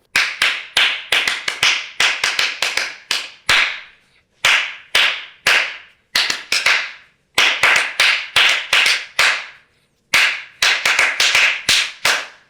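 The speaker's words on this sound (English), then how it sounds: "I'm just going to play the solo just by clapping along" Crisp hand claps tap out the rhythm of a jazz trumpet solo, alone and close, in quick syncopated bursts and runs separated by short pauses, each phrase a dense cluster of sharp claps.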